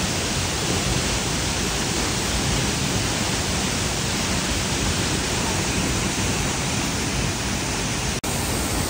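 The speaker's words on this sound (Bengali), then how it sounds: "ঝর্ণার কাছে চলে আসছি একদম। দেখেন একদম কাছে ঝর্ণার।" A waterfall near Gangtok, Sikkim, heard from right beside it: a loud, dense, unbroken roar of falling water that fills the whole scene, with a brief click near the end.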